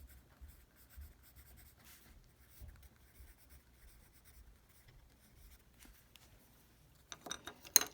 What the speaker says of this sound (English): Let's write it right here.